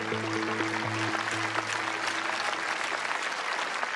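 Applause from an audience at a Dutch event, fairly soft and distant, continuous clapping for a few seconds with a steady tone faintly under it early on.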